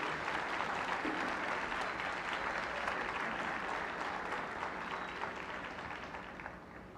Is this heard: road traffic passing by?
no